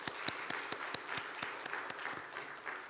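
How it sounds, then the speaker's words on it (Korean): Church congregation at a Sunday evening service claps together in response to the pastor, a moderate crowd patter with sharp individual claps standing out, steady and fairly subdued, no talk over it. "저분이 좋은 남편을 잘 얻었다고 생각하면 손뼉 한번 쳐보자."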